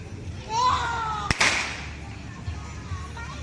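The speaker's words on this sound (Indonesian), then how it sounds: "Bocil-bocil pada main petasan." Firecrackers set off by children at the Gunung Mas rest area in Puncak: a single sharp crack followed by a brief burst of crackling, heard among outdoor voices and background chatter.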